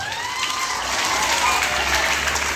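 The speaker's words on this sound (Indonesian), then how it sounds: "Tepuk tangan dulu untuk bruder dong" A school audience at SMP Budi Mulia claps for the brother during a training session, a short burst of full, even applause with faint voices mixed beneath it.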